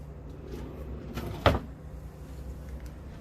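A single nightstand drawer in a Disney Caribbean Beach Resort hotel room slides and bumps shut with one short, close knock over quiet room tone.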